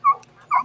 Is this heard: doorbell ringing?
no